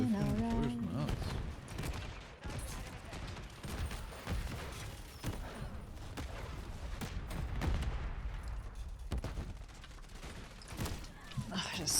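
Dense video game gunfire rattles almost without pause, with overlapping bursts and sharp shots piling into a loud, continuous barrage, while voices talk faintly underneath.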